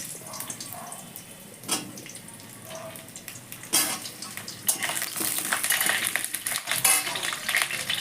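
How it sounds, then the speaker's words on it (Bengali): Potatoes frying in hot oil for Bengali khichuri, starting with scattered clinks and stirring, then a loud rush of crackling sizzle as they hit the pan, continuing close and bright. "এবার আমাকে তেলটা গরম হলে আলুগুলোকে ভেজে নিতে হবে।"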